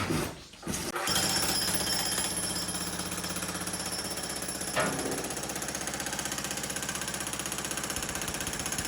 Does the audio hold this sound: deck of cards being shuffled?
no